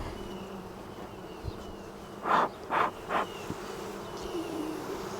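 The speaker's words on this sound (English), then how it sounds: "they seem to be doing a lot of buzzing" Honeybees at a hive box buzz in a low steady drone, with three louder buzzing passes in quick succession as bees fly close by, then the quieter hum continues; no one speaks.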